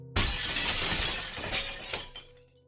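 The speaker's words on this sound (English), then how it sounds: "The glass shattered." Glass shatters in one loud, sudden crash, followed by a scattering of tinkling shards that trail off over about two seconds, with no voices.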